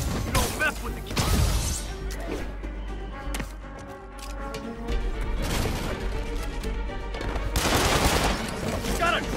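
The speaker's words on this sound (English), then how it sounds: "Open fire!" Gunfire bursts and crashes in the Marvel's Spider-Man video game, with fusillade-like volleys and impacts running through the whole stretch under game voices and dialogue, loudest near the start and end.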